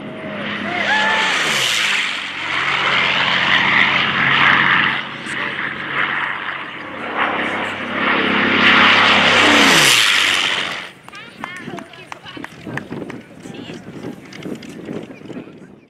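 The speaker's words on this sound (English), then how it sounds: "He's really pouring the coal to that Allison 1150 horsepower engine." A WWII fighter plane's Allison 1150-horsepower engine roars past at full throttle at an airshow, rising and swelling twice before fading, with a voice talking over it.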